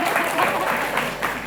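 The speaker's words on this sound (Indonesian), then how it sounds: "tepuk tangan dong teman-teman." Steady audience applause at a junior high school quiz competition, dense clapping from a crowd, loud and continuous throughout with no pause.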